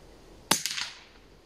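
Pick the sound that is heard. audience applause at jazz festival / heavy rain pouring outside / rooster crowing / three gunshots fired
three gunshots fired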